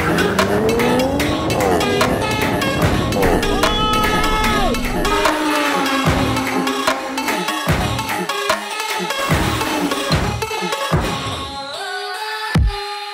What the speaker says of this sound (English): the customers lined up down a specially designed drag strip for some drag race action